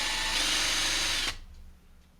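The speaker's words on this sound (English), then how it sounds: "I take this van apart by drilling out the posts" A small power drill whines loudly and steadily while drilling out the posts of a diecast toy van, then cuts off abruptly, leaving a faint low hum as it winds down.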